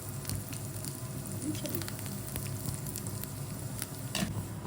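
Food fries in oil with a quiet, even sizzle and light, scattered crackles. It stays fairly faint throughout, with no speech.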